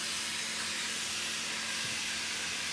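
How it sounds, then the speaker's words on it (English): Beef browning in a hot skillet gives off a loud, unbroken hissing sizzle, close and constant throughout with no talk over it. "We're just going to brown our beef for about 5 to 6 minutes on both sides"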